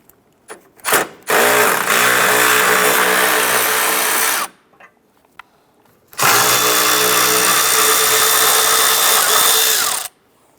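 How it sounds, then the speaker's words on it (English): A power tool loosens and removes two 10 mm bolts on a 2009-2015 Honda Pilot during alternator replacement: two sustained, loud whirring bursts of several seconds each with a short pause between, preceded by brief clicks. "It's two 10 millimeter bolts, one here, one on the lower side here. Just gotta loosen and remove those."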